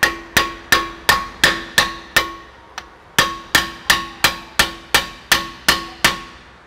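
An impact wrench hammers rapidly on a car handbrake in repeated sharp metallic bursts, about a dozen close, loud strikes in two runs separated by a brief pause, with no talk.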